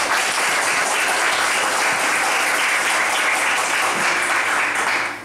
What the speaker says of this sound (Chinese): 我们先热烈掌声欢迎那个林敏聪老师啊